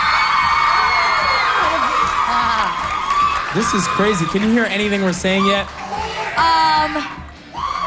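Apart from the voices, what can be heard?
crowd of fans screaming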